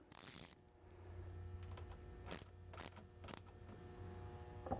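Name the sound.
1/2 inch ratchet tightening a Mustang shifter clamp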